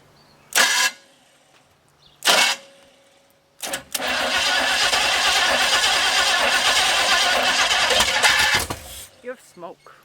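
A 1935 Ford, parked for over thirty years, has its starter cranking the engine: two short grinding bursts, then a loud sustained crank of about five seconds that cuts off without the engine catching.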